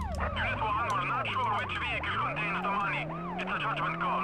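Wailing police siren in the PS1 game World's Scariest Police Chases, loud and close, its pitch sweeping up and down over an engine drone, with a voice briefly underneath.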